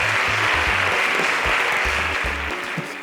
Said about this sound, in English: Can you give our finalists a round of applause?